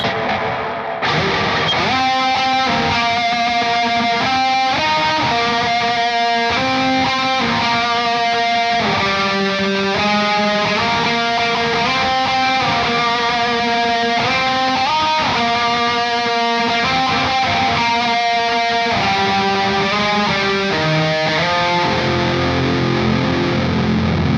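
A distorted electric guitar plays a sustained melodic lead through a reverb pedal, notes washing together in a lush reverb that rings on throughout.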